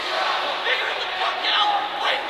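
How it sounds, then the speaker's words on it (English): Crowd at a college ice hockey game between Kentucky and Wake Forest, cheering and shouting in a broad, rising roar that swells in waves across the arena. "Crowd getting into it now"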